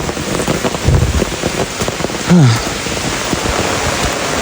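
Heavy rain pours steadily in a dense, even hiss over a hill village, with a couple of brief low knocks partway through and no talking.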